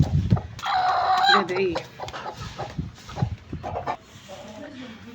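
Chickens in a rooftop coop cluck and a rooster crows nearby, loud and close, while people talk over the birds and a room is being cleaned.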